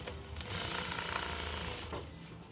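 A Selco DDL-9988 automatic 18-inch long arm quilting sewing machine runs fast, a rapid mechanical whir that starts, holds steady and then slows near the end, close and alone.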